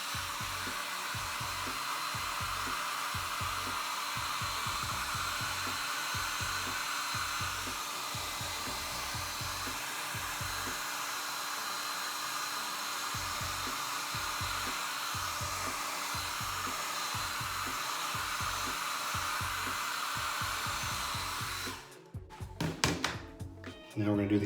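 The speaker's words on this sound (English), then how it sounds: "I'm going to take the same hair dryer and I'm going to dry this with the cool setting" A hair dryer on its cool setting blows steadily across a painted model tank, a close continuous whoosh with rhythmic tapping thuds underneath, ending in clunks as it is switched off and set down.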